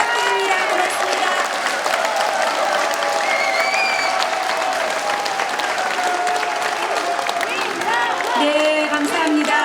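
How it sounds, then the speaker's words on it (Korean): Sustained loud audience applause from a crowd at a political gathering, dense clapping running steadily throughout with some voices mixed in. "우리 힘내시라고 큰 박수로 격려 부탁드립니다"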